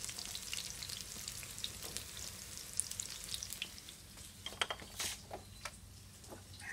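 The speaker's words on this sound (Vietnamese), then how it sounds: "sườn non mình chiên cho nó giòn cả hai bề, thật là giòn" Vegetarian ribs frying in a pan until crispy, a quiet steady sizzle with scattered crackles and pops and occasional stirring clicks, no talk.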